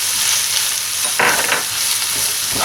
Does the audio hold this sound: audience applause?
no